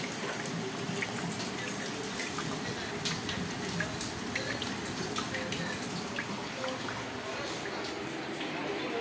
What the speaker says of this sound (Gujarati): અને વરસાદ પણ ચાલુ છે